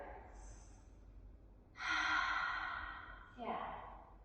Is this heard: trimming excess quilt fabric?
no